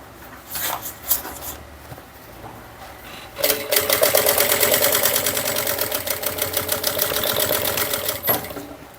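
A sewing machine stitches a bag, starting with a few light clicks and handling noises. A loud, fast, even run of stitching follows for several seconds, then stops with a click. No talking is heard.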